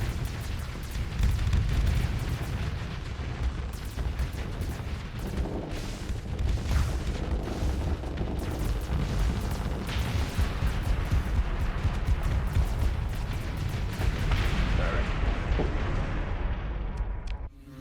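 Missile explosions rumble continuously through a space battle in the strategy game Fit To Fight, a dense, loud barrage of booms and blasts layered over a sustained low roar with no pauses.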